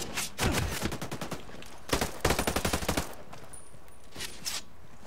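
Bursts of automatic gunfire crackle through a Ghost Recon Breakpoint PvP firefight, several rapid volleys in quick succession with short pauses between, loud and close, then a couple of fainter shots near the end.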